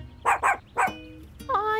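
A cartoon dog gives a few quick yips and short barks, then a higher whining whimper, close and clear, with no talking over it.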